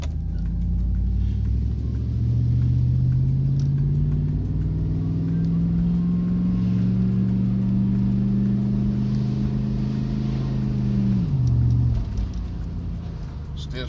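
Truck with a 4L60E automatic transmission pulling away, its engine drone rising steadily for about ten seconds before the pitch drops sharply as a late upshift finally comes in, loud and continuous throughout.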